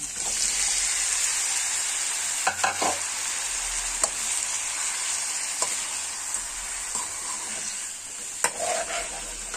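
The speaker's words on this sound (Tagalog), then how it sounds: "Lagay na natin yung ating hipon" Shrimp frying in butter and garlic in a pan, giving a steady, close sizzle with scattered clinks and scrapes of stirring throughout.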